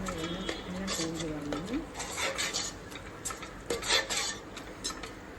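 Spiced pasta mixture stirred in a pan with a spoon, scraping and clinking against the metal in irregular strokes, close and moderately loud, with a voice talking over it.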